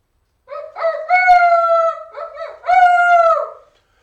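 A person imitates a harp seal's call with two loud, drawn-out, wavering howling cries separated by a short pause, close and alone.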